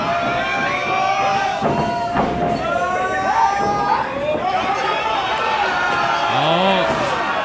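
Sellout wrestling crowd at a live show, a dense roar of cheering and shouting voices with scattered whistles and rising yells, fairly loud and continuous throughout.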